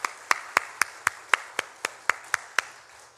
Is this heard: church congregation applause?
yes